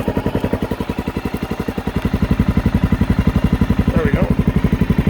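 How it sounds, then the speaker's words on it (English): A 2009 Honda XR650L single-cylinder motorcycle, choked, starts up and settles into a loud, close, rhythmic thumping idle that quickens slightly as it catches, with a faint voice briefly heard over it. "let's fire this thing up"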